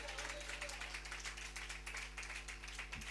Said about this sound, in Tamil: கைத்தட்டி ஆவியானவருக்கு.